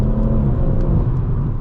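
A modified 440 bhp BMW M140i Shadow Edition pulls hard on the road, its engine a loud, steady, close-up rumble and whir with no voices over it.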